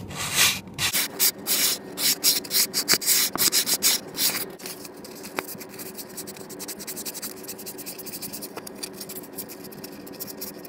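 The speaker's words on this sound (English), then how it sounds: "sandpaper that I use only to get some surface oxidation off and potentially some rust and even some evenness." Sandpaper rubs by hand on a Chrysler TorqueFlite transmission shift shaft seal area on a Jeep Wrangler, clearing surface oxidation and rust. Quick rhythmic strokes are loud at first, then settle into lighter, steadier scraping close to the mic.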